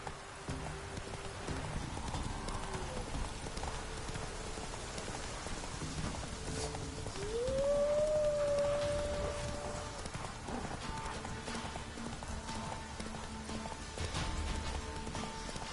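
A horse's hooves clip-clop steadily while riding in The Witcher 3 video game, with rain falling throughout and a rising tone midway.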